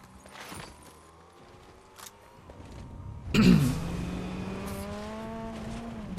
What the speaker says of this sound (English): Car over there somewhere.